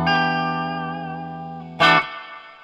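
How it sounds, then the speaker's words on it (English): An electric guitar through a Fender Deluxe amp's spring reverb rings out in a sustained chord that decays slowly, then a brief loud, splashy burst as the springs bounce, fading into a lingering reverb tail. "you can almost hear the springs bouncing around"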